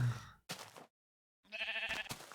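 Two short, wavering bleats from Minecraft sheep sound up close and clear, separated by a moment of silence.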